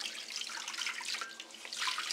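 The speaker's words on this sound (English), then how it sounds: "So now I'm going to wring it out." A saturated ShamWow cloth, holding about 16 ounces of water, is wrung out by hand, giving a steady close splatter and trickle of water running off it, with no talking.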